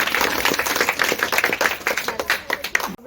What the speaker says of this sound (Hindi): तो मैं महिलाओं के लिए जोरदार ताली।